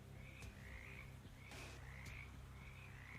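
Frogs croak in a video game setting, repeated throaty calls in a steady rhythm over a low ambient hum, with no one talking.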